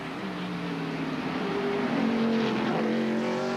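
Stock cars racing around the track at the 1997 Winston Cup Save Mart 300, a sustained droning engine roar with rising pitch as cars pass, steady and fairly loud without voices.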